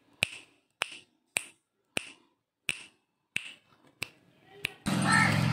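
Eight sharp, evenly spaced claps ring out one by one in a children's English action-word exercise, each crisp and isolated against quiet, before a sudden burst of louder mixed noise cuts in at the end.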